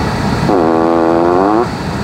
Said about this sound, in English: you can always just tap the exterior of the vehicle and it will actually play a fart noise